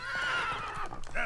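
Geralt's horse Roach from The Witcher 3 whinnies in a loud, close, drawn-out neigh that wavers and breaks up toward the end, with a faint hint of hooves.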